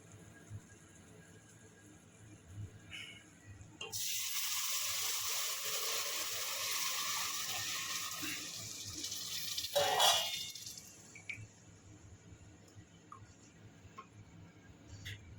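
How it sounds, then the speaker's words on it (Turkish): Hot sugar syrup poured over roasted semolina halva in a pan gives a sustained, close hissing sizzle that swells for several seconds, then fades into quieter bubbling. "Şimdi şerbetini dökeceğim."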